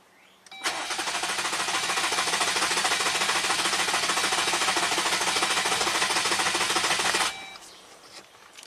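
2019 Jeep Rubicon Pentastar V6 with a P0300 misfire code and 71k miles cranking steadily on the starter for about six seconds, a fast, even, rapid whirring chatter, close and alone, cutting off abruptly.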